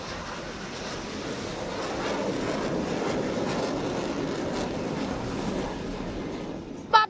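A military aircraft flies past in an Indian air show display with attack helicopters and jets, a steady broad roaring rush that holds loud for several seconds before a brief sharp knock at the end.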